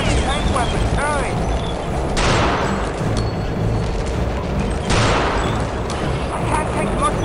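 Gunfire and explosions in the video game Return to Castle Wolfenstein, two heavy booming blasts with rumbling tails over continuous battle noise and shouted voices.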